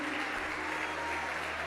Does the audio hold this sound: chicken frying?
no